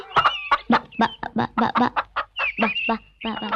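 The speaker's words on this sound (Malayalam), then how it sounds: "എന്റെ ഈശോയെ, എന്നാ വലിപ്പമായി കോഴിക്കൊക്കെ." Several chickens cluck in a steady run of short, loud, close calls, with one longer squawk in the middle.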